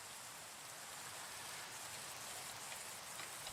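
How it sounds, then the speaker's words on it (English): Steady rain falls in the video game Minecraft, a continuous even hiss of drops with no breaks, filling the whole moment alone without any voices. "Of course, it's raining again."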